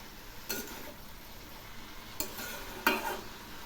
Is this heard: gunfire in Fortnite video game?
no